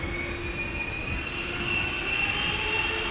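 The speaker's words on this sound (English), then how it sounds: "Now we are going to get our 777-300 right now. Going to Lima in Peru. KLM flight 743." A KLM Boeing 777-300 bound for Lima roars steadily at close range on departure from Amsterdam Schiphol, a loud sustained jet engine drone with a high whining tone and a slight swell in level near the end.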